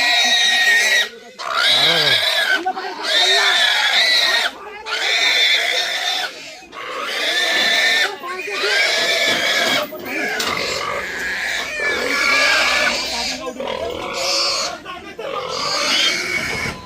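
A large herd of pigs being caught, squealing and grunting loudly and almost without pause, close and overlapping, with a brief break between bursts and little sign of talk.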